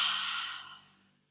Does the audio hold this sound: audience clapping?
no